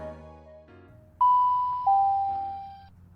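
Two-tone electronic departure chime from a fictitious announcement at a British Rail station fence in a video game, a bright ding followed by a lower held tone over a soft low background hum.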